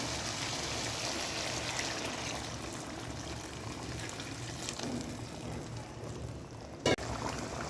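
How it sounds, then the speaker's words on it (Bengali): Hot water poured from a vessel into a pot of cooking meat curry, making a steady, continuous rushing stream that runs almost unbroken, with one short sharp knock near the end. "এরপর আমি যে গরম পানিটা অ্যাড করে দিয়ে দেবো"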